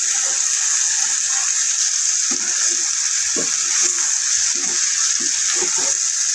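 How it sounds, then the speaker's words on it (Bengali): Mixed winter vegetables frying in a pan before pumpkin is added, a steady close sizzle with intermittent stirring scrapes and clicks, loud and continuous without talk. "সবজিগুলো আমার ভালোভাবে ভাজা হয়েছে"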